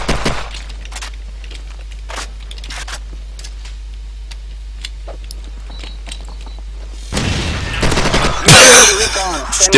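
Gunfire from a first-person shooter video game crackles as sharp, scattered shots and clicks. A louder, denser burst of fire follows near the end.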